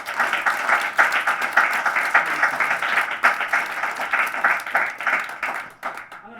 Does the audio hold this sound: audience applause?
yes